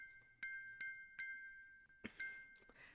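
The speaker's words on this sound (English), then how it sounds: "the sound emanating from this music box" A music box in The Great Ace Attorney Chronicles plays a sequence of clear, bright chimes, struck in a slow irregular pattern with ringing sustained tones and a few quicker notes near the end.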